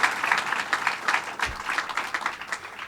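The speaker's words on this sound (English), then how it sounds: "a round of applause" A round of applause from the audience at a government press event, fairly distant, with individual claps audible in a rippling pattern over about three seconds.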